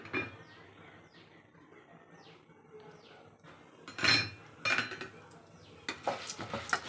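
Ingredients for drumstick-leaf spice powder are dry-roasted in a pan, with a soft steady crackle and several quick scraping and clinking strokes of a spoon against the metal, while faint bird chirps sound in the background.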